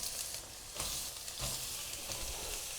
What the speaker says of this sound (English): I've got 2 to 3 tablespoons of oil in here. You can use any of your choice. And now I'm going to add the onions